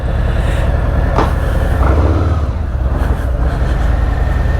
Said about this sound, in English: Wow, the bike sounds amazing.